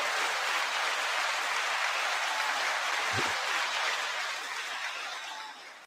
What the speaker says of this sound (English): Jay Nolan, 9-second applause.